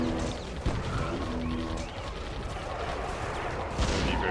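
A gun tower fires in the tower-defense game Defense Grid: The Awakening, giving a couple of sharp, isolated shots over a continuous bed of game ambience.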